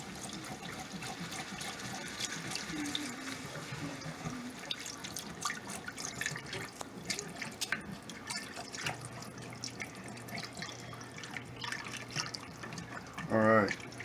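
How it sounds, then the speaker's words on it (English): Milk pours into a hot pan and is stirred while making steak au poivre sauce, soft liquid trickling and splashing with spoon scrapes, quiet and close, with a voice talking over it. "I'm going to add about 2 cups of milk"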